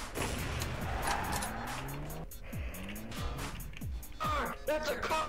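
Car engine revving and tires squealing in a skid inside Garry's Mod DarkRP, with repeated rising engine sweeps and screeching tire noise, loud and close throughout, with a brief voice in the background.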